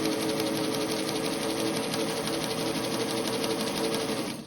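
A Singer Touch & Sew sewing machine winds a bobbin with a steady, continuous motor whir that holds an even pitch and level for the whole stretch, close up and with no talk over it.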